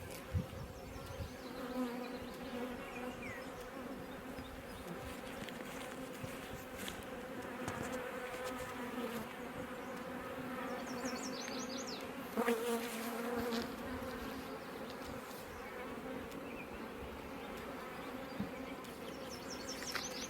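Honeybees from an already swarmed hive drone in a steady, dense buzz that lasts throughout, close and continuous with slight swells as individual bees pass near.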